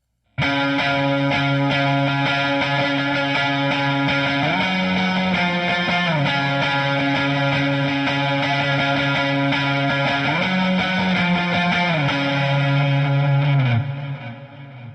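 An electric guitar played through Line 6 Helix effects plays a riff. The tone is distorted, with chorus and echo, and sustained chords shift in pitch for about fourteen seconds before fading, alone and loud.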